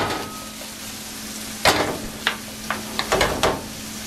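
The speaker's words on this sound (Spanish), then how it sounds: "a añadir el zucchini y el pimentón rojo. Vamos a dejarlo cocinar por un minuto antes de agregarle cualquier otra cosa." Zucchini and red pepper cooking in a pan: a steady low sizzle broken by several close knocks and scrapes of a utensil against the pan, with no talking.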